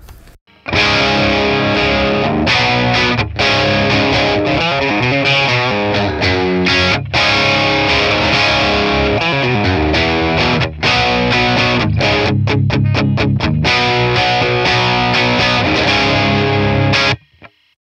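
Distorted electric guitar through a Matchless Laurel Canyon amp tone on its crunch setting, with a gritty, crunchy overdrive tone, plays a steady riff with chords and single notes, loud and continuous, ending abruptly.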